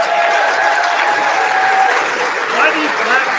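Crowd applause breaking out right after a vote count is read at a political convention, a steady dense clatter of many hands with cheering voices mixed in, continuous and fairly loud throughout.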